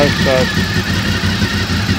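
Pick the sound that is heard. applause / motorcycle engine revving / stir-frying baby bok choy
motorcycle engine revving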